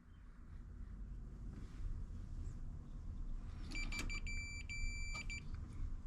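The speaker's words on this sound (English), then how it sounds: "I heard that beep." Short electronic beeps from a multimeter continuity test on a Husqvarna zero-turn mower safety switch, a brief cluster of high steady tones over quiet outdoor wind noise.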